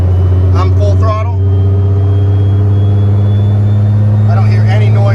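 A Toyota 2JZ car engine lugging at full throttle from around 1500 RPM gives a loud, steady low droning rumble, with a thin whine running above it and brief voices in the cabin at the start and end.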